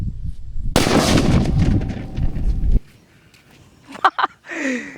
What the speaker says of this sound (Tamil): இந்த வெடியை வந்து இப்போ பற்ற வைக்கிற பாருங்க எவ்வளோ சவுண்டாக இருக்குது